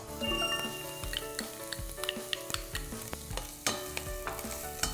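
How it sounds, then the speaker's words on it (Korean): Onions stir-fry in a pan with a soft, steady sizzle, spatula scrapes and light clinks sounding repeatedly close by at moderate volume, no talking. "그러면 양파부터 볶아볼게요."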